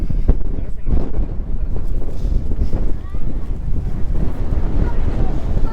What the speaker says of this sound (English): Ooh, it's windy up here.